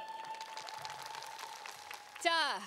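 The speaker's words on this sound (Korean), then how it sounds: "큰 박수 부탁드립니다." Light clapping from an audience at a song festival awards ceremony runs under a sustained tone, then a sweeping electronic or musical sound rises briefly at the end.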